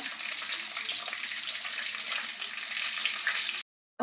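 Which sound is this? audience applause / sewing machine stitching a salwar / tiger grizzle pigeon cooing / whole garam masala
whole garam masala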